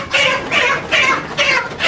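A rooster and hen give repeated clucking calls, four close, fairly loud bursts in an even rhythm with no talk.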